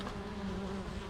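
Honeybees buzz steadily in a close, continuous drone right beside a backyard beehive, with no voices over it.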